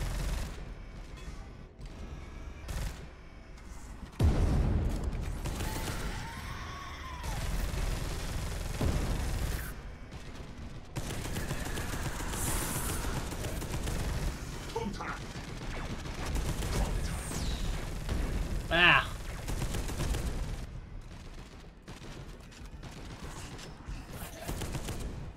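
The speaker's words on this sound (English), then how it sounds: "That was a turret." Sustained turret gunfire in the video game Space Hulk: Deathwing, a dense, loud barrage of rapid overlapping shots and booming impacts that runs almost continuously for about twenty seconds, thick with mechanical clatter and chaotic combat noise.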